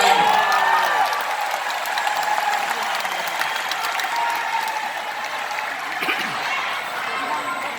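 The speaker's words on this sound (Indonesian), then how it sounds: "Beri tepuk tangan Mas Ahaye" Sustained audience applause fills the hall at an Indonesian political speech event, steady and dense for the whole stretch, with a faint voice briefly audible near the start.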